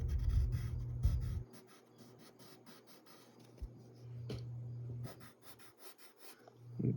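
A pencil scratches across paper in short, quick strokes, faint and close, drawing fold details on a sketch of Belle, with breathing and small desk noises between the strokes.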